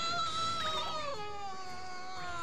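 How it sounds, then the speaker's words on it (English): Denny's nightmare monster in Ni No Kuni lets out a drawn, wavering cry much like a cat's meow or a whimpering infant, a single sustained wail that bends downward and fades. "Why does Denny's nightmare sound like a cat?"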